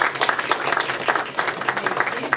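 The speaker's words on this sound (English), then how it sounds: "We need to give them a round of applause." Applause at the Killeen State of the City address for the city's emergency medical crews: a dense, steady patter of many hands from a large indoor audience, with a voice running over it.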